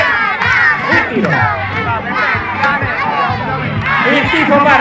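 A crowd of children shouts and cheers continuously at a summer camp game between orange and yellow teams, a loud, dense roar of overlapping voices and chants with no pause.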